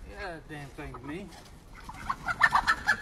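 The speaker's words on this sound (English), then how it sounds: "My rooster." A voice speaks briefly, then a rooster gives a short run of clucks, close and moderately loud.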